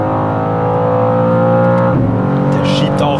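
A 2023 BMW M2 pulls hard in third gear, its engine note loud and close with rising harmonics, dipping briefly at a shift-like break before climbing again over a steady roar.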